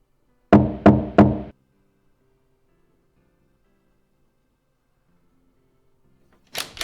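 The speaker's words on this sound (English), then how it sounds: "I'll just knock." Three quick, solid knocks on a door in the adventure game Zak McKracken ring out close and evenly spaced, then near silence with a faint hum, and another sound begins right at the end.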